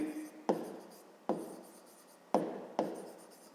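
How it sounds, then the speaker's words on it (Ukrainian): Writing out a fifth-grade math solution for a distance, speed and time problem: four sharp, close strokes or taps, each fading quickly, spaced irregularly over a quiet background. "Давайте так і запишемо."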